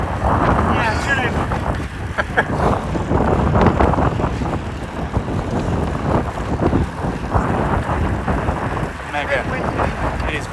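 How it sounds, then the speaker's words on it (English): Strong wind buffets the microphone outdoors during a long Ironman training ride, a loud continuous rumbling roar with gusty swells throughout and talk partly buried beneath it. "It is very windy."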